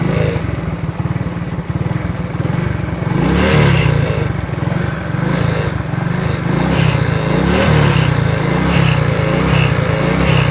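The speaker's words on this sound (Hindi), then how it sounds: "फिर मैं बाइक जो है ना वो यहाँ से गुजारूँगा" A motorbike passes along a route beside a pole bridge at night, its steady mid-pitched engine drone loud and close for about ten seconds, swelling slightly midway with no talk over it.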